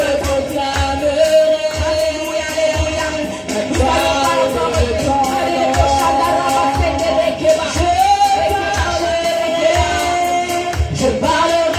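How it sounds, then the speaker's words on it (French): A church congregation cheers and shouts acclamations in a continuous crowd roar, with whoops and yells rising over sustained music and amplified voices. "des acclamations signes de reconnaissance ce matin"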